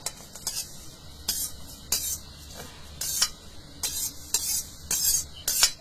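Fenugreek and whole spices dry-roasted in a pan for sambar powder, heard as sharp, close scraping and rattling strokes of a spatula at roughly half-second to one-second intervals, with faint sizzling between them.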